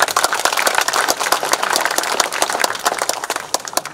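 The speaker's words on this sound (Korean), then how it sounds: "격려 박수 좀." Lively crowd applause at an outdoor park opening ceremony: many hands clapping quickly and unevenly, loud and continuous for the full few seconds with no speech over it.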